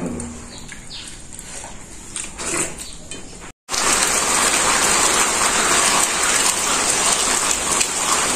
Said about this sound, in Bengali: বৃষ্টি নেমে বসছি